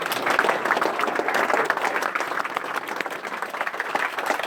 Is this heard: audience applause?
yes